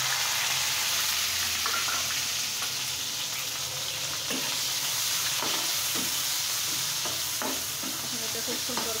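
Chopped onion, green chilli and garlic frying in a pan with toasted cumin, a constant close sizzle with intermittent scrapes and clinks of a stirring spoon.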